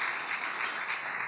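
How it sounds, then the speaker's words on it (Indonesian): A church congregation applauds in a steady wash of clapping. It is brief, moderately distant and even, with no voices on top. "Tepuk tangan dulu dong untuk Pak Hendy"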